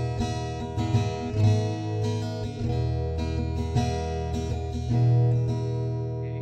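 A Peavey DW 4 acoustic guitar picked up through its internal microphone, sustained strummed chords ringing full and close for several seconds, alone with no talk.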